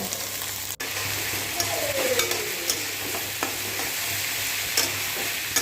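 Chopped onions fry in hot oil with a steady, close hiss, broken by a few light clicks and knocks of a utensil against the pan.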